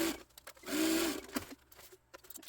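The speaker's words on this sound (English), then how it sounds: "I'm just going to stitch that down." A sewing machine stitches down a tote bag seam in short bursts with pauses and small handling clicks between runs. It is quiet and close, with no talking.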